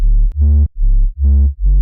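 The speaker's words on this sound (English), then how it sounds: "This is the sub, playing the exact same notes." A deep, pure sine wave sub bass synth in a future riddim track plays a short sequence of five sustained low notes, loud and smooth with no other sounds.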